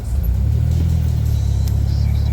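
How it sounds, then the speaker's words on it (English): A leveled Ford F150 on 35-inch tires driving: a steady, loud low engine and road rumble from inside the cab, continuous throughout with no talk. "Alright, little test drive."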